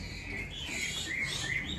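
A small songbird chirps in a few quick, high tweets at moderate distance over a soft steady background.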